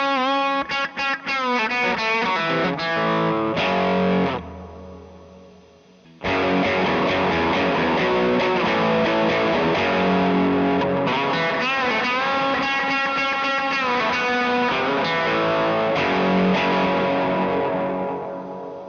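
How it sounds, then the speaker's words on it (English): Distorted electric guitar chords played first through a muddy, clogged reverb and then with a clean, crisp reverb, loud and sustained with a brief pause between the passages. "Here's an example of that muddy and clogged reverb tone versus the clean and crisp sound."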